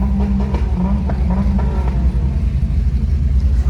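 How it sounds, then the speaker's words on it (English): Car engines rumbling and revving nearby after the Hot Import Nights car show in Dallas, with a few rising throttle bursts over a constant low idle. "Everybody revving"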